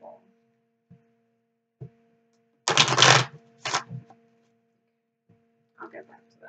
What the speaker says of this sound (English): Just give these a quick shuffle.